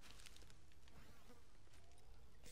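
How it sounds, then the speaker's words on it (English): Bees buzz in the game Fortnite as a faint, continuous hum with no breaks, sitting low under other quiet game ambience for a couple of seconds. "Look, those bees don't attack me."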